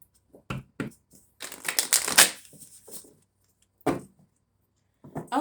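A deck of tarot cards is shuffled close up, with quick riffling and flapping bursts, one longer dense shuffle in the middle and softer taps between them.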